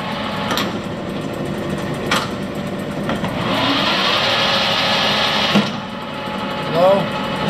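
The spindle of a Warner & Swasey #3 ram type turret lathe runs with a steady mechanical hum while gears shift between high and low, marked by sharp clunks, as someone talks over it.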